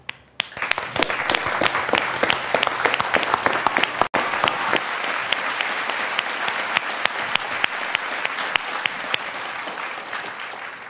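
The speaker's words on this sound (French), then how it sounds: "On va applaudir chaleureusement les récipiendaires pour s'être si bien démarqués." At the 2022 Desjardins research and innovation scholarship award ceremony, the audience bursts into sustained, dense clapping that stays loud and even for about ten seconds before easing slightly.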